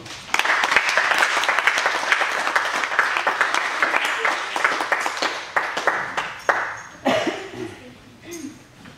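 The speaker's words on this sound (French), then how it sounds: "On l'applaudit." A dense round of applause from the audience at a martial arts club's season-closing ceremony holds steady, then gradually breaks into scattered claps as it dies away.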